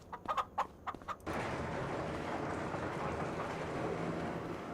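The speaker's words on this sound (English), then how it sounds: "we have our actual chickens" Chickens cluck in short separate bursts inside a farm coop in the Farming Simulator 25 game, on the Polesine map, then a steady broadband wash like rain or ambient noise takes over and continues to the end.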